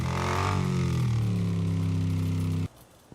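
BMW motorcycle engine in a video game, revving close and loud with a rising then steady whine before cutting off abruptly into near silence.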